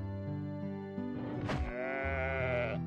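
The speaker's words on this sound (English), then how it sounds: "They keep sheep!" Sheep on a ranch in the video game Steambot Chronicles, one drawn-out bleat rising over steady game music, loud and close.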